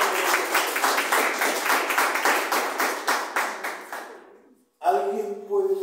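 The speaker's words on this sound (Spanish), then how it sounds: "Denle un aplauso." Rhythmic unison clapping from a church congregation during a Spanish-language sermon, about a dozen even beats that fade out, then a voice begins speaking.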